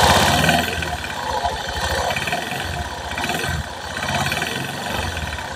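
A Honda Vario 150 scooter engine runs continuously nearby with a rough, rattling mechanical clatter pulsing through its steady drone; no one speaks over it.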